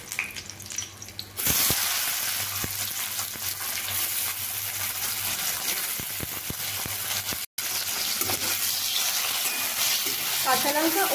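Green chillies and tomatoes frying in oil in a wok: after a quieter start, a loud sizzle erupts and holds steady, broken by stirring scrapes and crackles.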